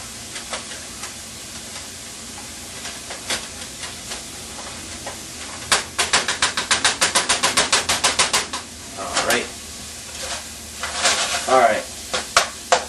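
Meat frying in a pan, a steady sizzle under rapid rhythmic clacking of a utensil chopping and stirring in bursts, close and moderately loud.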